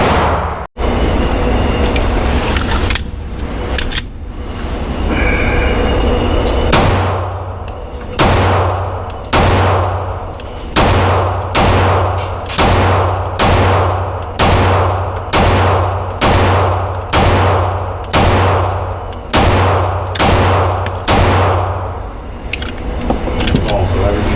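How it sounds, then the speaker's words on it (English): A Smith & Wesson M&P Shield X pistol fires at an outdoor range, sharp loud shots in a steady, evenly spaced string of over a dozen rounds, close to the shooter and standing alone. "We're going to load it up, put some rounds in the range, and let's see how it runs."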